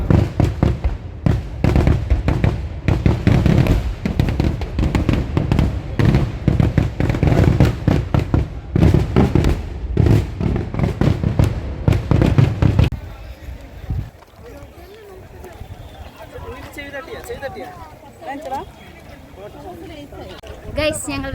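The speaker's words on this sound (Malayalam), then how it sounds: "അടിപൊളി വെടിക്കെട്ട് ഗംഭീരമായിരുന്നു" Fireworks at a temple festival in Kerala burst in a loud, rapid barrage of crackling bangs for several seconds, then give way to quieter crowd murmur and footsteps.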